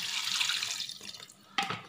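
Water running from a kitchen tap into a pot of chicken pieces, whole spices, onion, garlic, ginger and green chilli for a clear chicken soup, a steady close splashing stream that thins out, then a short sharp splash near the end.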